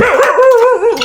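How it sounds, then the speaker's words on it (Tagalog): Dogs bark on a cattle farm, heard as one loud, close, wavering yelp that bends up and down in pitch like a short howl, with no talking. "Ang ating mga aso, tumatahol na. Tumatahol."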